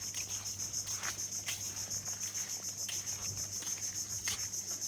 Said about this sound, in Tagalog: Ano yung may ingay? Kulisap.